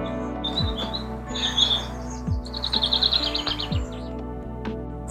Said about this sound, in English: Bird song's amazing.